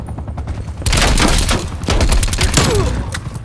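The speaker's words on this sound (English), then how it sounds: "Using an actual SMG than" Rapid bursts of SMG gunfire in Call of Duty Black Ops Cold War, loud and close, firing in dense volleys from just under a second to the end with brief gaps between strings of shots.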